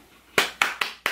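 Four sharp hand claps land in a steady, evenly spaced rhythm, close and clear against a quiet room.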